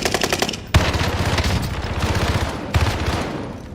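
Heavy automatic fire from a very large gun in Call of Duty Warzone, loud rapid bursts hammering almost without a break, with no talking.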